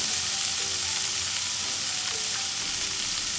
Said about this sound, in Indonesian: Sekarang bakalan aku tuangkan air.